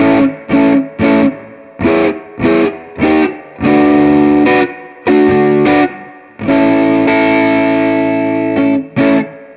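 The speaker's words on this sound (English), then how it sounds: "I've got a maxed out guitar and a pretty cranked amp coming in to a set of speakers" Heavily distorted electric guitar, maxed out through a cranked amp into speakers, chords chug in short bursts, then ring out in longer sustained blasts, loud and saturated with no talking.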